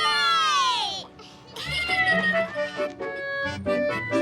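A small cat's high, sliding meows, several in a row, with a bright warbling cry near the start and more meows among background sounds.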